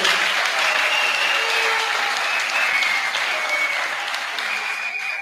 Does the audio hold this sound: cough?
no